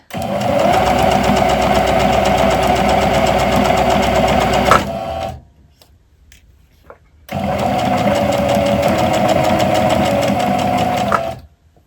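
A sewing machine stitches a fabric pet bandana in two loud, steady runs of rapid mechanical whirring, separated by a couple of seconds of near silence while the work is repositioned.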